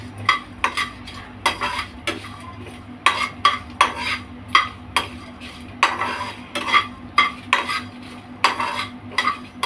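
Spices roast dry in a kadai for rajma curry, a spatula scraping and clinking against the metal in a fairly regular rhythm of close strokes over a low background hum.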